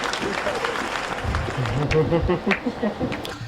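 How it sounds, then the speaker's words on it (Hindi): Crowd at a Hindi comedy poetry recital breaks into loud, continuous applause, with a voice and background chatter audible beneath the clapping. "एक बार जोरदार तालियां बजाइए"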